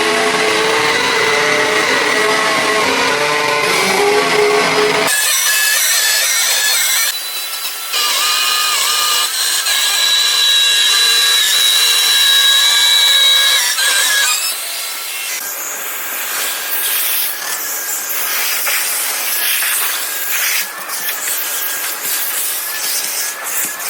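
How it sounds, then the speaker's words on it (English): A router fitted with a juice groove bit cuts a groove around the perimeter of a wooden basket weave cutting board, giving a loud, steady high whine that runs continuously with small dips, and no one talks. "put the juice groove all around the perimeter of the cutting board with our juice groove bit"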